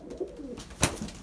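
A racing pigeon cooing close by, a short soft coo with a brief flutter-like burst partway through.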